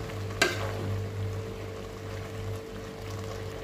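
Eggplant frying in a pan for pinakbet, a soft steady sizzle with a sharp clatter as it drops in near the start, then an even crackle with a faint hum underneath.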